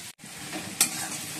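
Masala paste of ground green chilli, ginger, salt, cumin and coriander powder frying in a pan, giving a steady close sizzle with stirring scrapes, a short gap near the start and a brief sharper hiss partway through.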